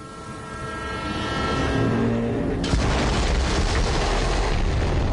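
Train in the Borderlands 3 game, a loud rumbling approach with a horn-like tone that swells, then cuts into a heavy, continuous roar of rushing rail noise.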